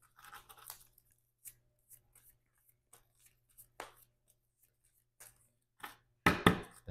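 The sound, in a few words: shuffling a deck of playing cards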